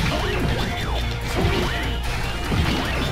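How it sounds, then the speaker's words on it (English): A Hadouken attack effect from the Mega Man X4 video game plays, with loud crashing blasts and swishing sweeps over dense game music and effects. "they used Hadouken and you can hear it so well"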